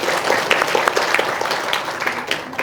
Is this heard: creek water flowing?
no